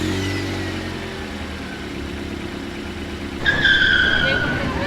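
A Test Track 3.0 ride vehicle at EPCOT speeds up. A low rumbling engine-like drone runs through, then a sudden louder whining, screeching surge near the end.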